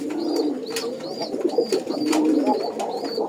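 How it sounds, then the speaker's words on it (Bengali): Several Golla pigeons coo continuously up close, with overlapping throaty calls and a few faint higher chirps mixed in. "দেখেন এই যে একদম বাক বাক কম করে ডাকে।"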